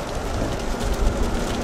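Light rain falls steadily outdoors beside the Mekong River, a close, even patter and hiss with no voices.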